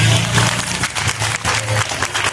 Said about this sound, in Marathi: त्या टाळ्या वाजवून